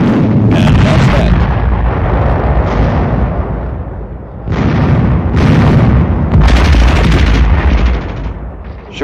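Magnesium incendiaries explode in deep snow, destroying an enemy supply shack, with loud, heavy booming bursts and rumbling blasts that come in repeated waves, from a 1950 military training film soundtrack.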